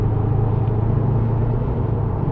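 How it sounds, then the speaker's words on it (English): A Subaru Impreza WRX STI Type-RA Spec-C holds a loud, steady low engine rumble from inside the car during a drive through the gears, with no voices. "Oh man, the gear changes."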